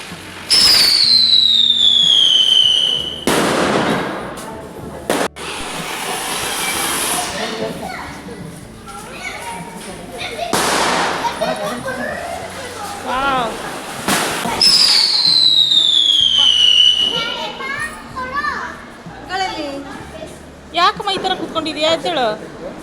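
Diwali firecrackers and fireworks burst repeatedly, with whistling rockets shrieking overhead and sharp bangs, while people chatter and call out nearby throughout.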